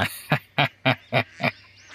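Six evenly spaced cartoon duck quacks, loud, nasal and close, sound one after another in a steady rhythm over a faint background hum.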